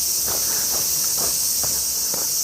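A constant high, shrill buzzing of cicadas near a train line in Japan fills the air, steady and loud, with a few faint soft thumps underneath.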